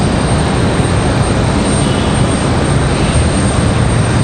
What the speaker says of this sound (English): JetBlue and an A220.